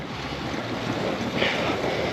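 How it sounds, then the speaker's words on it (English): Wind rushes over the microphone during a group road bike ride into a headwind, a steady broadband roar with no other sounds. "So the wind is blowing from the east to the west"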